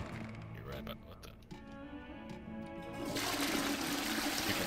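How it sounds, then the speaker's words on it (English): A toilet flushes in the video game Hogwarts Legacy, a rushing water sound that swells louder toward the end, partly under game voices. "You can flush the toilet"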